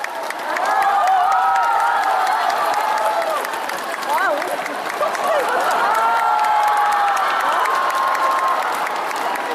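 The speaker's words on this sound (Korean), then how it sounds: "박수를 맞아주십시오" A large audience at a hospital family concert applauds steadily throughout, with scattered cheers and whoops rising above the clapping.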